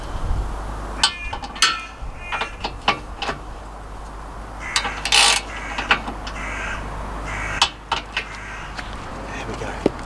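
Sharp metallic clicks and clunks of a ratchet snugging up towbar bolts under a BMW E61 535d Touring, fitted with a Westfalia removable towbar. The clicks come in short irregular bursts over a steady low background hum.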